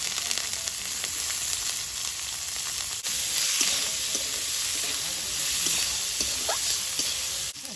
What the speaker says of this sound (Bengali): ওই তেলের মধ্যে দিচ্ছি গোটা গরম মশলা, তেজপাতা আর দেবো গোটা জিরে, কিছু রসুন গোটা, পেঁয়াজ আর কাঁচা লঙ্কা।